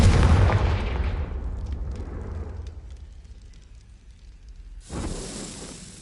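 Confringo fire spell explodes in Hogwarts Legacy with a loud burst that decays over several seconds, then a second sharp blast lands near the end.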